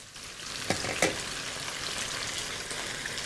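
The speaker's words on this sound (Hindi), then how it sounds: "ये देखें, आलू यहाँ फ्राई हो रहे हैं।" Potatoes fry in hot oil with a dense, even sizzle close by, punctuated by a couple of brief louder crackles early on and no talking.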